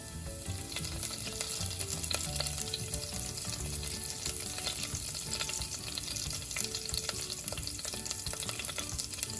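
Mustard seeds, jeera and curry leaves sizzle loudly in preheated oil while bottle gourd curry with dried shrimp is being made, a dense, steady crackle with scattered pops running throughout, close and alone.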